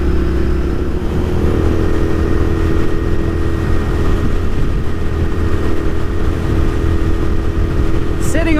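A Royal Enfield Continental GT650 twin motorcycle is ridden at speed, its engine droning steadily with a low hum and wind rush throughout.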